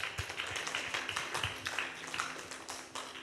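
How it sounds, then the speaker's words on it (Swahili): Congregation clapping during a church sermon, a steady run of sharp, overlapping claps through the whole stretch, moderately close and lively, with no speech over it. "Unaweza kumpigia Bwana makofi."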